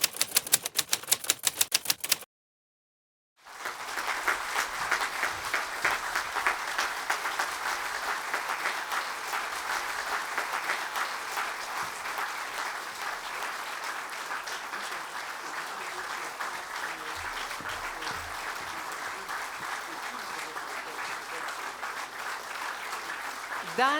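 Audience clapping at a ceremonial municipal session in Medvode, Slovenia, honoring an honorary citizen: a burst of applause, a brief silent gap, then long sustained dense clapping that stays loud and even to the end.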